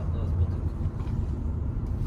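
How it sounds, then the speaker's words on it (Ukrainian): A crashed Skoda Octavia drives along on a test drive with a steady low road rumble heard from inside the cabin, and a voice murmurs briefly over it. "Зараз робимо тест-драйв."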